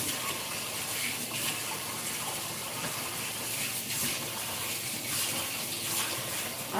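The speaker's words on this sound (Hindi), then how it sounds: "पानी डाल के धो के लेंगे।" Water gushes steadily into a kitchen vessel to wash ingredients for a Konkani lunch, a continuous close splashing pour that lasts several seconds without any talking.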